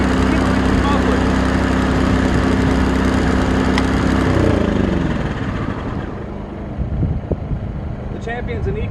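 A Champion 2000W inverter generator engine runs loudly under load despite mufflers, a steady droning hum that drops in pitch and fades to a quieter idle, with a person talking over it.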